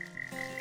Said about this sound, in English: But for the Littlejohn's tree frog